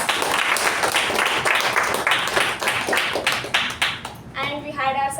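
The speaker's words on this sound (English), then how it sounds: "Let's give them a huge round of applause." Toastmasters meeting audience clapping together in a room, a steady burst of applause lasting several seconds before it thins out while a voice begins speaking near the end.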